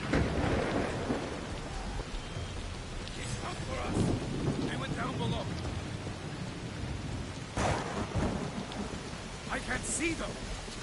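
Thunderstorm from the video game Assassin's Creed Shadows, with steady heavy rain hissing on surfaces throughout and rolling thunder booming and cracking several times at moderate distance, no voices heard.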